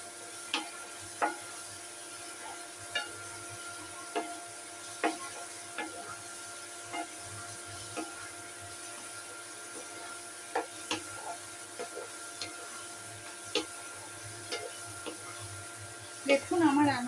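Dried chili being stirred into pineapple chutney in a pan, giving scattered soft scraping and tapping clicks of a spoon at an irregular pace over a faint steady background hiss.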